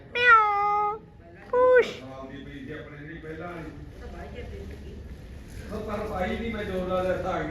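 A cat meows twice, loud and close, in quick drawn-out calls on a farm morning, followed by people talking nearby.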